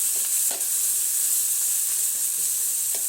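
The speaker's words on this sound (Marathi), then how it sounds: "तर कांदा छान असा मस्त भाजून घेऊया." Onion frying with green chillies in a pan, a dense, bright, hissing sizzle held steady and close throughout, with a couple of faint spoon taps.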